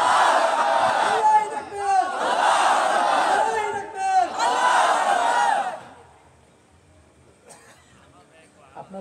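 A large crowd at a religious gathering shouts the takbir together in three loud, swelling chants, followed by quieter murmuring and faint sounds.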